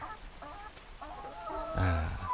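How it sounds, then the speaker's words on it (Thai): Laying hens on a farm in Buriram, Thailand, cluck softly in a steady murmur, then one louder, drawn-out call rises near the end. No voices are heard. "โอเคก็เป็นไก่ไข่"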